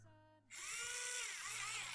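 A small Tamiya Electric Handy Drill spinning up, carrying a wobbly drill bit: a steady, fairly faint whirring motor whine starts sharply and holds for the rest of the clip.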